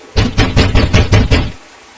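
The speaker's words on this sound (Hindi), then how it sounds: "तभी किसी ने दरवाजा खटखटाया" Seven quick, loud knocks on a door in a steady run, close and dry, then silence; a cartoon-style sound effect in a stormy night scene.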